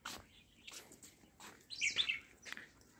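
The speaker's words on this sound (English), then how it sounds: "you can see some sparrows, house sparrows, and many birds chirping." House sparrows and other small birds chirp on a walk in Kodaikanal, with short scattered tweets and a brighter burst of calls in the middle over quiet outdoor ambience.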